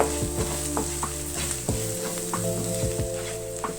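Turmeric and salt are stirred into a sizzling chicken masala base, a steady loud fry crackling under repeated scraping strokes of the spoon, with no voices.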